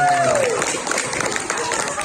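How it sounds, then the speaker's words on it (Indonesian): A crowd of students applauding at an Islamic boarding school demonstration, a steady wash of many hands clapping together, with voices mixed in throughout. "Tepuk tangan dong."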